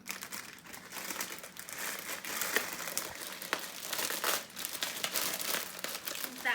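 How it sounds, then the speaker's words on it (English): Crinkle paper crumpled and stuffed into a Dollar Tree Easter basket, a continuous close, dry crackling and rustling with sharper crinkles throughout. "So then we're going to take half of the crinkle paper and put it in the basket."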